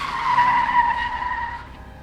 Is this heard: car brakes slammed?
yes